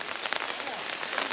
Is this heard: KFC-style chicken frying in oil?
no